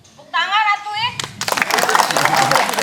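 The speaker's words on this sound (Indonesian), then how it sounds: "Tepuk tangan atuh ya." Residents at an RW 11 neighborhood gathering in Buahbatu, Bandung break into dense, lively clapping that swells and holds to the end, following a brief spoken voice at the start.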